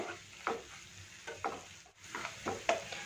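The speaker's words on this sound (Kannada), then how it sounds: "ಇದೆಲ್ಲ ನೋಡಿ ಸ್ವಲ್ಪ ಫ್ರೈ ಆಗಿ ಎಣ್ಣೆ ಎಲ್ಲ ಬಿಟ್ಕೊಳ್ಳೋ ಥರ ಕಾಣಿಸ್ತಾ ಇದೆ" Gravy masala frying in oil, heard as a quiet bubbling sizzle broken by roughly evenly spaced spatula scrapes about once a second, close and soft, with no speech.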